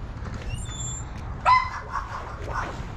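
A dog gives a single sharp bark mid-clip, then a softer follow-up yip, fairly near, over low road-like background rumble.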